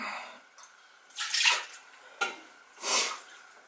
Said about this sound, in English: Pour it right on in, 2 cups.